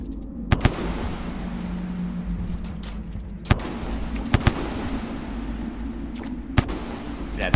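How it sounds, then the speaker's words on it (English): Loud, sharp explosion bursts from attacking drones in the creature-survival game Rain World, several cracking blasts scattered over a steady low rumble and hiss of game ambience. "Sorry if this is a bit loud, there's a lot of explosions going on."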